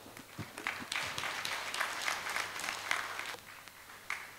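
Audience applause at an HR and EHS conference, a moderately quiet, steady round of many people clapping, fairly distant, with no talk over it.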